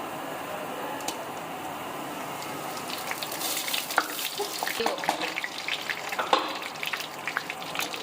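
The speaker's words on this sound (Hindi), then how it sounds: "ऑयल को हल्का सा गरम कर लेंगे। एक बड़ी साइज़ की प्याज ब्राउन डाल देंगे इसमें।" A large onion goes into lightly heated oil to fry before liver is added. A low, watery hiss swells partway through into busier crackling sizzle with small pops, and there is no speech.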